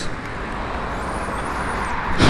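A 334 cc motorcycle with twin exhausts runs at a steady idle, giving a continuous broadband engine drone close by that swells slightly near the end.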